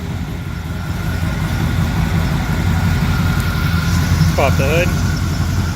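A 454 V8 idles smoothly and steadily in a 1947 Chevrolet Thriftmaster pickup truck, a loud close rumble that holds throughout, with a voice speaking briefly near the end.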